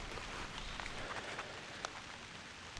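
Light drizzle patters steadily in Ohio woods on a November morning, a soft continuous hiss with scattered tiny drops landing nearby.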